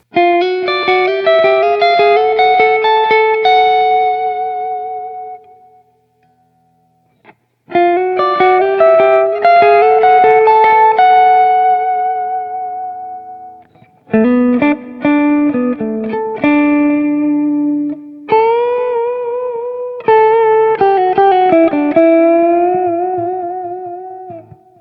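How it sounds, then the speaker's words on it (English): An electric guitar on its coil-split neck pickup plays clear, ringing phrases with sustained notes and melodic runs. Several passages are separated by brief pauses, and a short silence falls near the six-second mark. Reverb and effects color the tone, and no one speaks. "Lots of clarity on that. That split sounds really nice."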